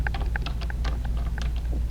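Rapid typing on a computer keyboard, a close, fast run of crisp key clicks with a few brief pauses over a low steady background hum.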